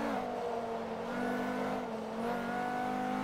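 Peugeot 206 high-performance hatchback engine in the racing game Forza Motorsport 3, a steady droning hum that rises and falls slightly, loud and continuous with no talk.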